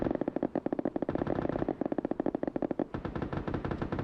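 Mortar in PUBG firing rapid, dense bursts of booming shots close up, one steady barrage then another starting near the three-second mark, with no talk.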